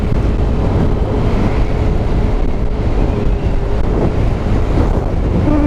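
Sea waves surge and wash continuously beside a marine camp on a coastal road, with strong wind buffeting the microphone throughout; loud, steady and close, with no talking.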